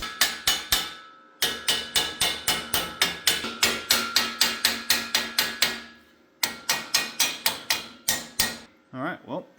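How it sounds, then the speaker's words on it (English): Rapid, ringing hammer blows on a fresh weld on a lifted lawn mower in quick steady bursts separated by short pauses, loud and close; a brief voice sound follows at the end. "we're going to give it the old hammer test"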